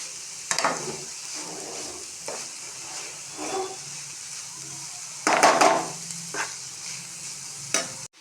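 Cucumber curry being sautéed in a pan, a soft steady sizzle broken by several sharp spatula scrapes and stirring bursts, close and without talk.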